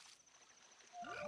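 Frogs croaking in the Ocarina of Time Randomizer game, a burst of rising chirpy croaks entering near the end over a faint steady tonal game background.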